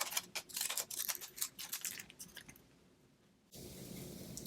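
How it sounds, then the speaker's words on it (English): Scallop scissors snip through paper while Christmas tags are being made, a quick run of crisp, close cuts followed by a quiet pause and then a soft steady hiss. "See, I do have some scallop scissors. See if this will work."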